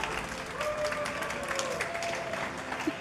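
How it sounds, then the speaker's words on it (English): Audience at a Magic: The Gathering Pro Tour card tournament applauding and cheering, a steady dense wash of clapping heard from a distance, with faint crowd voices mixed in. "We're hearing large reactions from people out in the audience right now."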